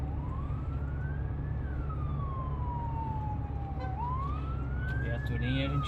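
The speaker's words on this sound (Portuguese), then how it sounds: "SAMU seguido de uma guarnição da polícia militar." A SAMU ambulance siren wails in rising and falling sweeps, followed by a military police vehicle's siren, both heard over steady traffic rumble on a Brazilian street.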